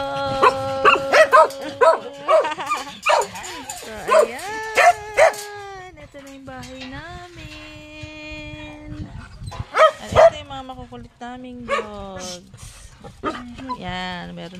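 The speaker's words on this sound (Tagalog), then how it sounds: "Mga aso namin, no?" Small pet dogs at a new model house yip and bark in short bursts, close by, mixed in with people talking throughout.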